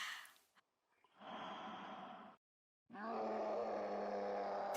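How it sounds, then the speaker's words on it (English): Heavy breathing in a horror video game, a few slow, drawn-out breaths and sighs separated by brief pauses, close and fairly quiet. "Alright, I'm hearing some breathing."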